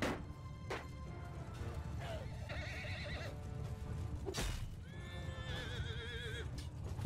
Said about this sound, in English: Oh no, my horse!